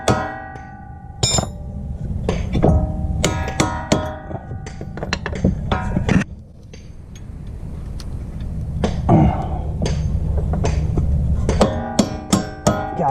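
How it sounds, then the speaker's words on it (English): Hammer blows striking a bolt during a wheel bearing replacement on a 2003-2008 Honda Pilot, sharp metallic clanks in irregular bursts with short pauses, loud and close. "get out the hammer again"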